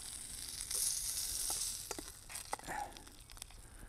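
Food cooking over hot coals sizzles in a soft, continuous hiss, with a few sharper pops and crackles; fairly quiet and close, with no talk over it.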